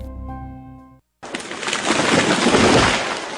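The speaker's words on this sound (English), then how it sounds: "That was the sound of a tree falling." A tree falling as a sound effect in a radio advert for tree trimming: a dense, loud crashing rush of cracking and breaking that swells and sustains, following a brief tonal musical tail and a short silence.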